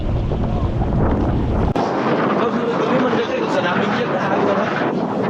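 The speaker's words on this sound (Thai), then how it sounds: "สปีดโบ๊ทโอเคครับทุกคนครับตอนนี้เรือ เรือกำลังวิ่งแล้วนะครับ" A speedboat roars along on the Red Sea off Jeddah with a dense, rushing engine and water noise, buffeted by heavy wind across the microphone.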